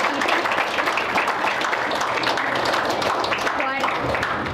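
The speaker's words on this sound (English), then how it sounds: "for that a big round of applause" Audience applauding IPS officer Mahesh Bhagawat at a public talk event, a continuous crackle of many hands clapping, fairly loud, with voices mixing in underneath and a brief whistle near the end.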